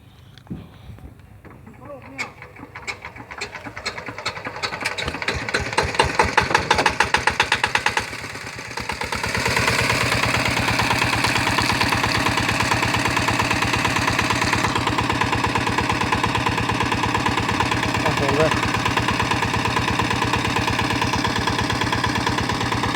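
A multipurpose utility engine fitted with a centrifugal clutch revs up from a rough idle, its pitch and loudness climbing before settling into a steady, loud high-speed drone, heard close with faint voices in the background.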